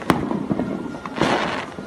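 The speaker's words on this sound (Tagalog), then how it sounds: "Sama, takita na akong fireworks dito sa balay." New Year fireworks burst outdoors near a house, with a sharp close crack followed by a dense spread of crackling pops and booms, no talk.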